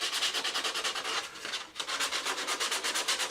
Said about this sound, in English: what I'm going to do is just simply sand that off, make it nice and flat.